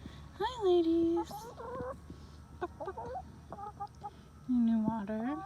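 A flock of seven backyard hens around a chicken coop, giving scattered close clucks and drawn-out squawking calls in short bursts, with a voice talking at times between them.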